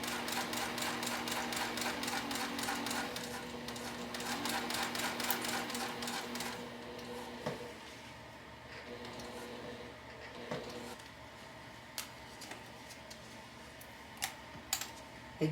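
A sewing machine runs steadily at first, its rapid mechanical stitching loud and continuous as it sews zipper tape to a wallet lining, then gives way to quieter handling with a few sharp clicks and taps.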